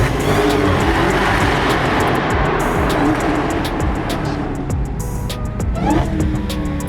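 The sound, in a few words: supercharged car engine whine in tunnel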